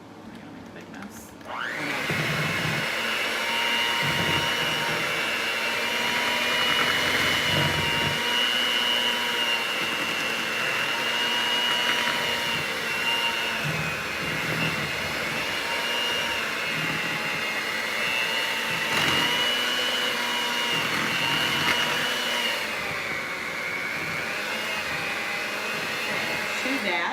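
Electric hand mixer whirring steadily through cake batter, a loud continuous high motor whine that starts abruptly and runs for the whole stretch with slight fluctuations.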